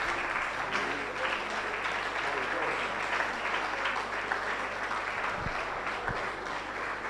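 Continuous clapping from a lecture audience fills the room after a distinguished professor's talk, dense and even throughout at moderate volume.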